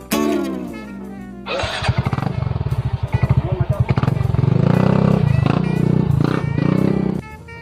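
A motorcycle engine revs up loudly nearby, its rapid pulsing exhaust climbing into a sustained roar over several seconds before cutting off, with voices briefly mixed in.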